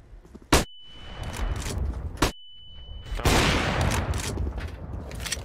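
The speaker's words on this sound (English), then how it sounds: "Throwing flashbang." A flashbang grenade goes off in Counter-Strike with sharp bright cracks and a high ringing whine, followed by a louder burst and continuing gunfire clatter and rattling impacts close by.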